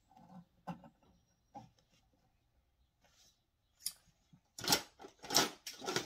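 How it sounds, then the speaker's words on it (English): A few soft clicks, then several sharp snipping sounds close by as scissors trim excess material while sewing a sling bag, in an otherwise quiet room. "And then with your scissors, off any excess."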